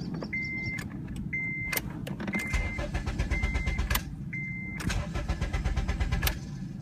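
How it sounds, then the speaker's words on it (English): A car engine cranks repeatedly without catching after a spare, unprogrammed key is turned, the starter whirring in several bursts with brief clicks between them, close and steady with no talk. "See how it just turns over, but it doesn't actually start?"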